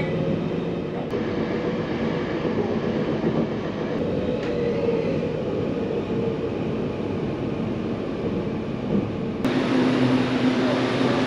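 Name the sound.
train arriving at Zhuifen station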